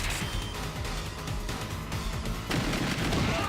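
Gunshots from the House of the Dead 2 arcade light-gun game fire in a rapid, dense barrage of sharp cracks and booms, loud and continuous, with a heavier burst near the end.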